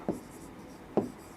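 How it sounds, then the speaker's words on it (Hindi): Writing on a board during a classroom psychology lesson: two short, separate strokes about a second apart, close and fairly soft, with no talking. "तो मैं यहां लिख देता हूं"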